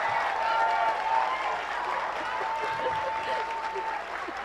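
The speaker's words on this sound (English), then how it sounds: "Let's give them a big round of applause." An audience applauds the cast at an elementary school spring concert, moderate clapping that gradually thins out, with a faint sustained tone and some murmuring in the room.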